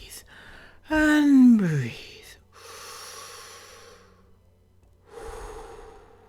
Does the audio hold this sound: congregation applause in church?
no